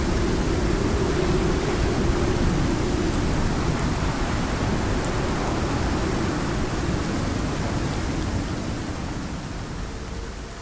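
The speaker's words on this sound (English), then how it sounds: "Ooh, this is a bad storm." A heavy thunderstorm with rain in the survival game Icarus gives a steady, loud wash of broadband rain noise with deep rumbling underneath, continuous throughout and easing slightly toward the end.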